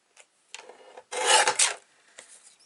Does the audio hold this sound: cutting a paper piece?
yes